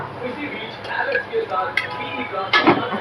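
A pan is set down on a home kitchen stove with oil added to heat for a Marathi methi curry. A few metallic clinks and clatters of cookware sound close by over a low, steady background.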